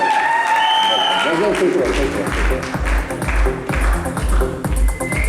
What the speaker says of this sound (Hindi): जोरदार तालियां होनी चाहिए रूम पर अपडेट के लिए